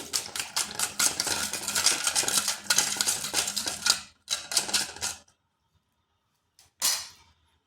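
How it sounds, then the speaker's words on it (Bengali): Sugar, salt and baking powder stirred together in a bowl for yeast-free naan puri dough, a busy run of clinking, scraping strokes that breaks off near the end, followed by one short final burst. "এরপর এগুলো ভালোভাবে মিশিয়ে নিচ্ছি"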